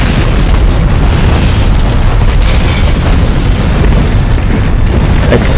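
A loud, sustained rumbling explosion roars continuously with dense crackling debris, a building demolition blast in Resident Evil 3.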